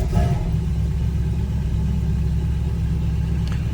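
A classic car engine, kept in the Texas sun, turns over and settles into a steady, smooth, low idle that carries on throughout.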